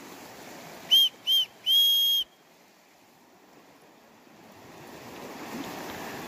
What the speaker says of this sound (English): But here you have a whistle.